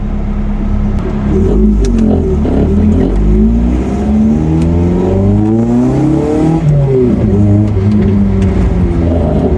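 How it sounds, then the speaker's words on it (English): A loud Ginetta G40 sports car engine and exhaust drone steadily on a rolling road, the pitch sweeping up and down as it revs hard under load, close and continuous. "You can hear the exhaust."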